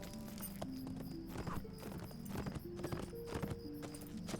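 Horse hooves clip-clop in a steady walking rhythm in the video game LOTRO, with an armoured horse making moderately loud, repeated hoof strikes over a faint ambient background and no talking.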